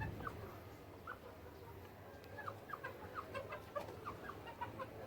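Pigeons cooing and fluttering close by in a coop with loose soil, a string of soft repeated calls and bird chatter over a steady low hum, with no talk.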